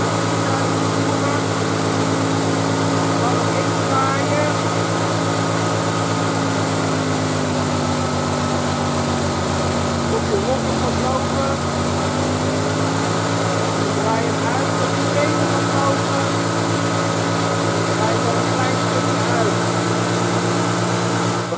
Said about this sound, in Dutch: Laat de motor stationair lopen.